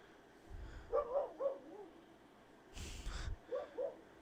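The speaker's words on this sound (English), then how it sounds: "Sorry for the dog barking out there." A dog barks outside in the distance, a few short muffled woofs in two brief bursts, faint and heard indoors with a low rumble between them.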